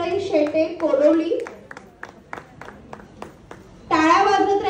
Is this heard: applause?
yes